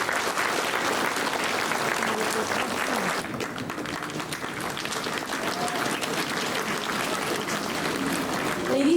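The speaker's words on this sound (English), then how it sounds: "Let us give them a thunderous applause." A crowd at a Catholic youth jubilee celebration in Shillong gives sustained, steady applause, a dense wash of clapping that continues throughout with faint voices mixed in.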